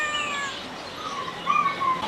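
A cat in a pet market on Qingping Road, Guangzhou, gives a couple of short meows over busy street chatter, with birds also calling nearby in the background.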